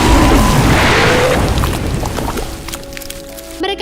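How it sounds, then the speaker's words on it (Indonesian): Potions explode inside an oven as a film sound effect, a loud rushing boom that fades into crackling debris and ends with a brief ringing. "ramuan itu meledak dan membuat para goblin musnah seketika"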